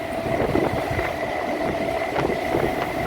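Rumbling ride aboard a crowded local train in Bengal, standing near the open door: a continuous close rolling roar with rattling clunks and wind buffeting, no talk.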